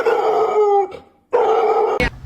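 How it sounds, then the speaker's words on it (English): A dog gives two long drawn-out howling barks separated by a brief pause, loud and close, with a short sharp bark-like burst at the end. "So she usually barks at other people?"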